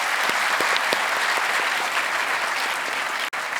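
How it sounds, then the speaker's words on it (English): Audience applause fills a talk at Deeksharambh 2025, dense steady clapping from a room of listeners, loud and continuous before cutting off abruptly near the end. "So first claps for all of you"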